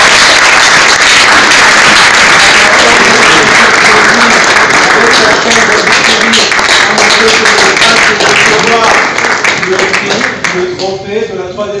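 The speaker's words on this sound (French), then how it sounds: "sous vos applaudissements." An awards-ceremony audience applauds an honoured recipient at the Nzonding Award trophy night, loud dense clapping running for several seconds before it thins out near the end, with voices mixed into the clatter.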